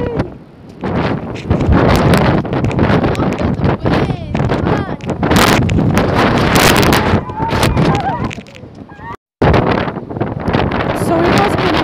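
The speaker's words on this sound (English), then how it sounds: "So cold and windy." Strong, cold wind on the Isle of Wight seafront roars as loud, sustained buffeting across the microphone for nearly the whole stretch, with one brief dropout, and a voice speaks now and then beneath the gusts.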